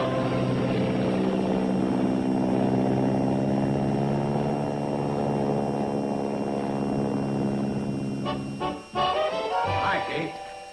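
Steady, droning crop duster airplane engine hums loud and unbroken for several seconds, then dips and shifts near the end as it passes.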